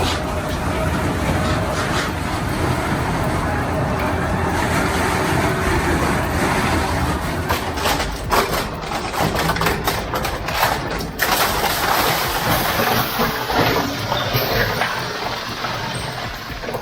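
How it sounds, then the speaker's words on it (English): Quad Q85 industrial shredder chewing up aluminum ladders, a loud continuous grinding and rumbling churn with rattling metal crunches throughout. "Watching the Quad"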